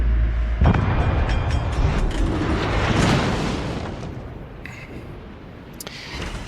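Naval gunfire from World of Warships Legends: a deep booming salvo hits early, followed by rolling explosive rumble and a few sharper later impacts, loud and close.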